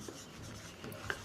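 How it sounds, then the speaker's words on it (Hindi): Chalk or marker writing an example on a classroom board during a chemistry lesson, a short soft scratchy stroke with a brief tap near the end, close by and quiet, no voice over it. "मैं एग्जांपल लिखता हूँ"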